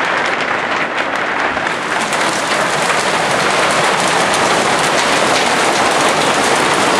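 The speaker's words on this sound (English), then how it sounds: "This is what hail sounds like" Hail pours onto a roof during a storm, making a dense, loud, unbroken clatter of countless hard impacts that holds steady throughout, close by and with no voices.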